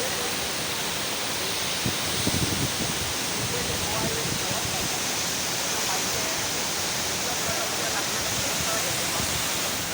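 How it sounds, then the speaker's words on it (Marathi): The Savatsada waterfall roars in a steady, dense rush of water that stays loud and unbroken from start to finish. "हा बघा तुम्ही माझ्या मागे पाहू शकता सवत्सडा धबधबा"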